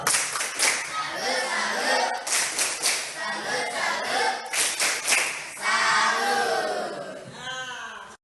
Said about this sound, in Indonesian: sekarang kita tepuk salut